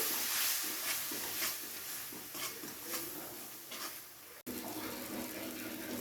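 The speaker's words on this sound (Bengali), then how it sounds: "মশলাটাকে খুব ভালোভাবে কষিয়ে নেব।" Spice paste for potol chingri cooking in a pan, a soft continuous sizzle with recurring stirring scrapes and pattering bursts, then a brief dip followed by a steadier hiss.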